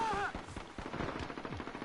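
Rapid automatic gunfire rattles in a Call of Duty Modern Warfare match on PS4, a quick string of sharp, evenly spaced shots, moderately loud over game ambience.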